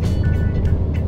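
A jeep drives along a sunny provincial road near a resort in Norzagaray, Bulacan, Philippines. Its engine gives a steady, close, low rumble with no break and no talk.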